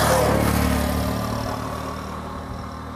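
A Nissan Magnite XL non-turbo with a 1000 cc engine idles with the bonnet open, a steady, close humming drone that softens slightly toward the end.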